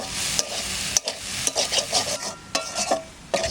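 Leafy greens with chilies stir-fried dry in a pan: a steady close sizzle broken by repeated scraping and stirring strokes of a utensil against the pan, with no voices.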